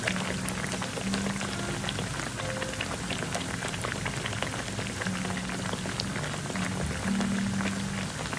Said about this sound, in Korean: 지글지글 끓는 소리가 정말 좋죠?